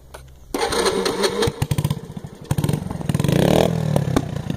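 A small Shineray motorcycle engine is started with a clattering crank, then settles into a steady, close, buzzing idle that swells slightly, with no voices over it.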